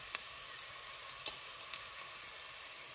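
Dry chili flakes and coriander powder sizzling in hot oil, a faint, steady crackling hiss with a few soft ticks and pops, close by and alone.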